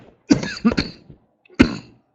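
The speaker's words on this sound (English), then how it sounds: "There's that morning cough again." Two sharp coughs, the first a rough cluster of bursts, then a single cough after a short pause, close up with no talking.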